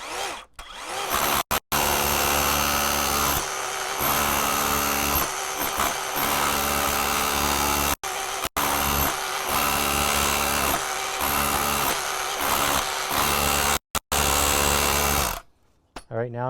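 A Dewalt SDS+ rotary hammer chips loudly and close by in long, steady bursts, with a DWH304DH dust extractor attached. Brief pauses break the bursts and a slight hum of the extractor runs underneath.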